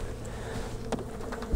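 Honeybees buzz around winter hives with a low, steady drone close by, one brief louder pass standing out over outdoor background noise.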